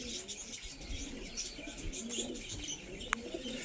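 Soft, faint cooing from a young female tippler pigeon, low and murmuring, with a faint chirp and light background noise around it.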